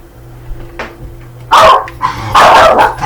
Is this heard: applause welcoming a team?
no